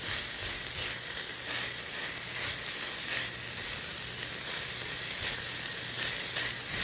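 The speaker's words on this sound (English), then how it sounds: "now we're adding the thyme and a couple of bay leaves. We're going to stir that around. Saute this for an additional 2 minutes." A soup base with thyme and bay leaves sautés in a single pot for chicken gnocchi soup, a continuous even sizzle and crackle heard close up without any talk.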